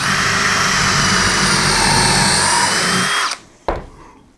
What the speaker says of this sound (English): So if I drill a hole,